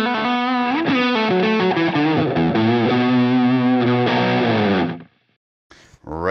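Electric guitar through a Line 6 Helix dialed toward an overdriven tone, a loud sustained line with bends and shifting notes ringing for about five seconds before cutting off, then a short noise.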